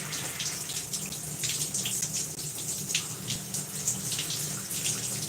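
Water runs steadily from a tap while hair is rinsed and saturated to wash out product, a continuous close hiss and splash with small fluctuations from the hair and hands, no talk.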